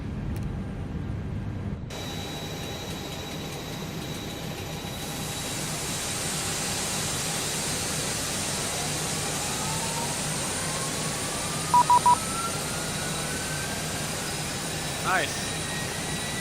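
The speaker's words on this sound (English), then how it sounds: "and fire up engine number 1." Engine number one of an Airbus A321ceo in the X-Plane 12 simulator spools up with a rising whine over a steady roar, joined by faint cockpit tones and a brief voice.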